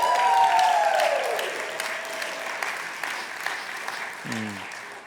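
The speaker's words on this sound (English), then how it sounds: "So I want you to give yourselves a round of applause" Applause rises from an audience at a college spring convocation, fading gradually from a full start, with a short voice near the end.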